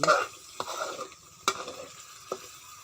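Chili paste for a fish dish being stir-fried in a pan, with a steady sizzle and a few sharp scrapes of a spatula at intervals, close and fairly quiet.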